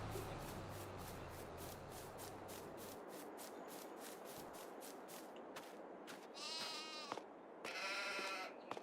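Sheep bleat in Farming Simulator 22, with two distinct nearby bleats near the end after a stretch of soft rustling and shuffling ambience.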